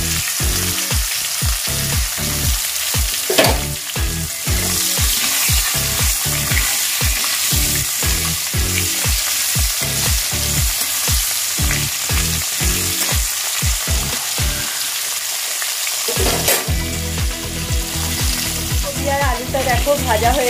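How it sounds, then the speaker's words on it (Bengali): Tilapia fish pieces frying in hot oil, a loud continuous sizzle with rhythmic spatters and crackles, close up and without talking. "একটু ভেজে নেব। হালকা করে ভেজে নেব।"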